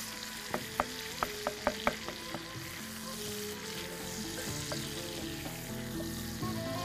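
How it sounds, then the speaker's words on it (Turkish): Minced meat and onions fry in a pan, making a steady, moderate sizzle, with a few sharp clinks of a stirring utensil against the pan early on. "Kıyması piştikten sonra soğanı ilave ediyoruz."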